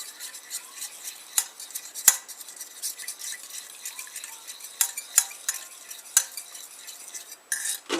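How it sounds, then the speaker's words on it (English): A utensil stirs a thickening gravy mixture in a pot, scraping and clinking against the metal in irregular strokes, with sharper taps now and then and no talking. "then you're going to mix and it's going to get slurried and it's going to want to come out of the pot"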